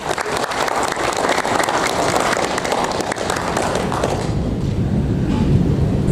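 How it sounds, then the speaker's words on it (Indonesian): A crowd at an Indonesian advocates' swearing-in ceremony claps loudly and continuously, a thick wash of many hands that fades in intensity near the end while the hall noise lingers. "Coba tepuk tangan dulu."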